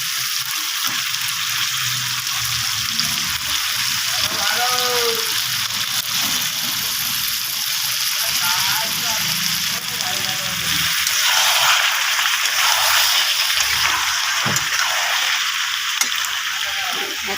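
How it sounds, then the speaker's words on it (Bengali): Mixed vegetables tipped into hot cooked-down spice masala in a pan for a Bengali mixed vegetable sabji set up a steady, loud sizzle and fry hiss that runs the whole time, with faint stirring clatter. "এখন আমি সবজিটাকে ঢেলে দেবো মশলার মধ্যে।"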